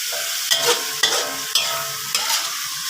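Wood ear mushrooms, fishballs and tofu being stir-fried in a pan, a loud continuous sizzle broken by four sharp spatula strokes roughly half a second apart, close by with no talking.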